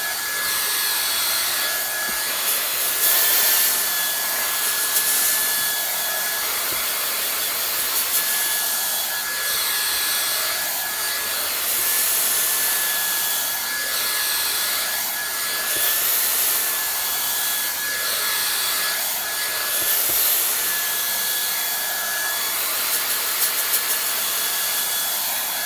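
A hair dryer blowing steadily on hand-tied hair extensions, a continuous loud whoosh with a high whine, interrupted by soft rubbing and brushing textures as the airflow shifts.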